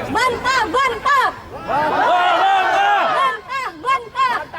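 A rally crowd at a Sabah May Day gathering chants rhythmically in protest against GST, loud voices shouting in unison with short pauses between bursts of the chant.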